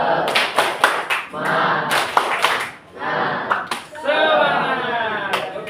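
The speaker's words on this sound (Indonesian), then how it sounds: "kita tepuk semangat dulu" A mathematics class claps out a rhythmic tepuk semangat cheer, sharp hand claps in quick patterned bursts mixed with chanting voices, with short pauses between phrases.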